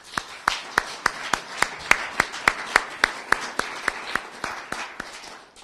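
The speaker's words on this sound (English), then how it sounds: "Let's give them a warm round of applause." Sparse audience at a court adoption awareness presentation claps in a steady, slightly uneven rhythm, each clap distinct and fairly close, sounding like a small group.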